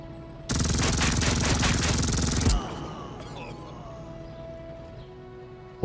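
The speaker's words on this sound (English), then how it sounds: "We'll have the sniper move all the way in. Position. And fire away." A sniper opens fire in the World War II strategy game Headquarters: World War II, set in the Ardennes during the Battle of the Bulge. Sharp, closely spaced reports form one loud two-second burst, then fall away to a low rumble and faint tones.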